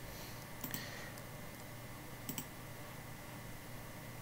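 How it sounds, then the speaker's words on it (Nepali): Mouse clicks on a button in Excel software, two faint paired clicks a moment apart over a steady background hum, no talking. "हामी यो लोगो भन्ने बटनमा क्लिक गर्छौँ"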